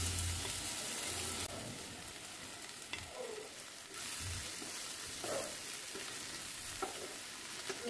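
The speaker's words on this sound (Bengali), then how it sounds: "এবারে আমি দিয়ে দিচ্ছি পাউরুটির টুকরোগুলো" Bread pieces frying with tomato in a pan make a steady close sizzle, with soft stirring scrapes that rise and fall over the sound.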